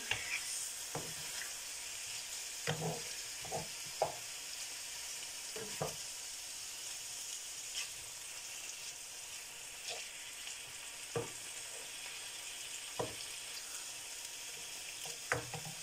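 Brussels sprouts, onions, lardons and pork fry together in a pan, making a steady crackling sizzle. Occasional sharp knocks from stirring or the utensil against the pan break through at irregular intervals.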